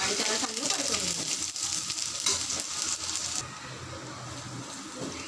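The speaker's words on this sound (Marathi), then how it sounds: "ही वाटण आता चांगलं परतलं," A dry paste of ground garlic, ginger and coconut sizzles as it is sautéed and stirred in a pan, a steady frying hiss with scraping that softens partway through.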